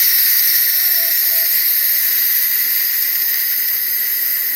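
Steam hisses loudly and steadily from an Instant Pot pressure release valve, a constant close rushing jet with a faint whistling tone that holds without a break, with no voices.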